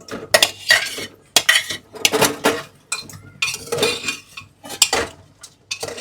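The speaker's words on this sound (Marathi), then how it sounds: "आता याच्यामध्ये पाया ऍड करतोय आपण" Paya (goat trotters) tipped into a pot of turmeric, garam masala and salt and stirred, with loud close clanks and scrapes of a metal spoon against the pot arriving in uneven bursts.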